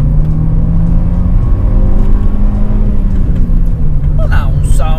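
A 2007 Renault Megane RS F1 Team R26 with a 2-litre turbo engine rumbles loud and close at full throttle, a steady droning roar that holds throughout, with some brief higher noises near the end.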